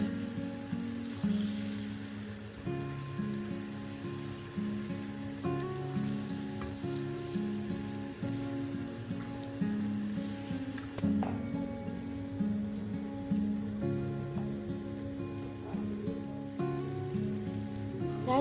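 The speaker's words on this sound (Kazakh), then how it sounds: "сәбізіміздің жартысын салып жақсылап қуырып алатын боламыз" Carrots frying in hot oil for plov, a soft continuous sizzle with crackles and occasional stirring clinks, quiet and steady over a faint background hum, no talking.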